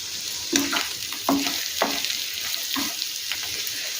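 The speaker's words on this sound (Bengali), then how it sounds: "সমস্ত মশলা এখন আলুর সাথে মিশিয়ে নেব।" Potatoes and spices being stirred in a frying pan for a cumin potato dish, with a spoon scraping in a few distinct strokes over a light, steady sizzle, close by and with no talk.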